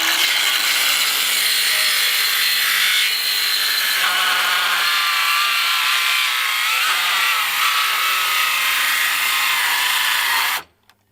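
A battery-powered saw rasps steadily through wood being cut for a ceiling, a loud continuous close-up cutting noise with slight changes in pitch that stops abruptly near the end.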